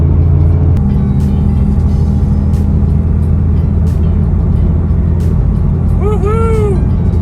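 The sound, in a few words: Porsche 997 Turbo driving past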